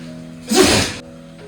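A single short sneeze in a home kitchen during cooking, brief and fairly loud, bursting out over a faint steady background hum with no talking.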